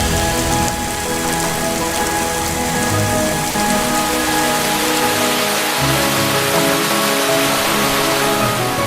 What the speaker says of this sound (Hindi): पानी अब भी यहां बहुत बरसता है।